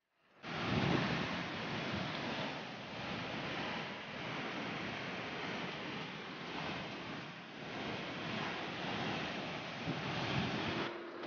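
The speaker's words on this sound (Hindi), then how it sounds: "यहाँ पे बहुत ही सुंदर वाटरफॉल हो रहा है" Waterfall at Kashang Nala in the Himalayan hills, heard as a steady, dense roar of rushing water with a wind-like hiss, continuous and fairly close, with no talk.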